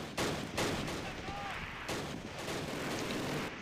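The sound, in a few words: gunfire in the video game Close Combat: Last Stand Arnhem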